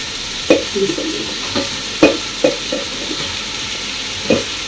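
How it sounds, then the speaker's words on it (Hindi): Potatoes going into a sizzling pot of cooked chicken for vegetable pulao, a steady sizzle under several sharp clinks and knocks of a spoon against the pot. "अब हम सबसे पहले आलू डालेंगे"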